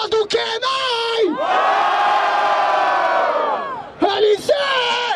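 Loud crowd cheering and yelling erupts at the Batalha da Aldeia rap battle in Barueri, a sustained roar of voices framed by shouted calls from a host.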